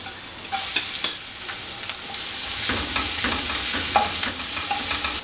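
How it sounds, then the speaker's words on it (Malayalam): Ginger and garlic fry in hot oil for an egg snack, producing a steady bright sizzle that swells slightly midway, with light taps and scrapes from stirring nearby. "അതിലേക്ക് ഓരോ ടീസ്പൂൺ വീതം ഇഞ്ചിയും വെളുത്തുള്ളിയും എടുത്തിട്ടുണ്ട് അത് ചേർത്തൊന്ന് മൂപ്പിച്ചെടുക്കുക"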